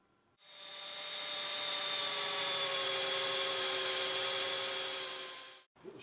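A drill on a lathe cuts a small dimple, giving one continuous high, whining hum that starts abruptly, holds steady for about five seconds, then cuts off.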